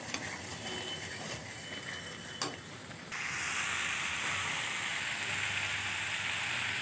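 Fish curry cooking in a pan in a Bengali home kitchen, a constant close bubbling sizzle that steps up louder and brighter about halfway through, with a faint clink and no talk.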